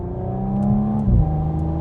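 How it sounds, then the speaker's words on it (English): A 2021 Audi S5 Sportback's V6 engine runs with a steady, subdued exhaust drone close by, swelling briefly in a short rev before settling back to a smooth hum, with no talking. "Oh, that V6 noise though."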